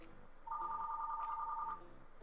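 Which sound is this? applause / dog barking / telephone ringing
telephone ringing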